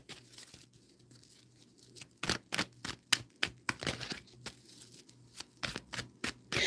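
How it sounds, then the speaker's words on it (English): Tarot cards being shuffled close by: a quiet start, then a run of sharp riffling bursts and snaps in quick irregular succession, with no talking. "So you hear me shuffling these cards?"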